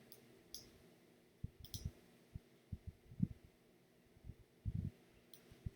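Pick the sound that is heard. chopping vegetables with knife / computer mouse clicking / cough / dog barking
computer mouse clicking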